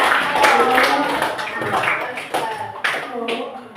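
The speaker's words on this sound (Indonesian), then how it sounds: "Tepuk tangan." Children in a classroom clap together during an Islamic religious lesson, a brief burst of small hands mixed with young voices chattering over it.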